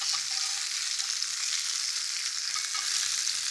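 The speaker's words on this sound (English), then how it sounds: "We'll turn it over very quickly, just to flash fry it." A salmon fillet seared briefly on its flesh side in a hot pan after the skin has crisped. It gives off a steady, loud, close frying hiss that runs unbroken throughout, with no voices.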